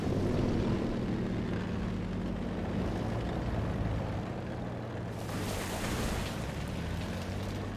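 A propeller aircraft passes overhead in War Thunder, a steady engine drone under a broad low hum, holding fairly constant with a brighter surge of noise in the last few seconds; no talk.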